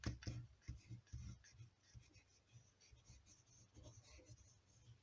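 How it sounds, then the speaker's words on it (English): Scratchy strokes of a watercolour pencil tip drawing on paper, a run of quick close scrapes and taps that start strong, thin out, then pick up again near the end. "Now I'm just using the tip of the pencil"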